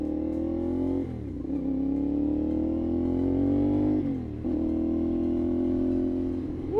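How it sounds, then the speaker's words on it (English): A CFMOTO 450SS with an IXIL exhaust accelerates through the gears, each deep, loud engine pull rising in pitch before a quick dip at the shift, heard close from the rider's position. "I'm loving this exhaust. It's loud, it sounds good, it's deep."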